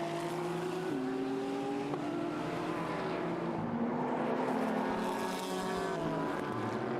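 A GT4 race car at Okayama circuit during a Japan Cup 2024 race gives a loud, sustained engine drone with gliding pitch shifts as it changes speed, heard alone without talk.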